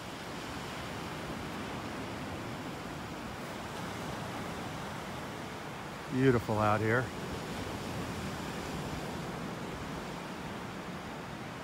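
Ocean waves wash steadily onto the beach at North Naples, Florida, a broad continuous hiss of surf close by, with someone briefly speaking midway over the noise.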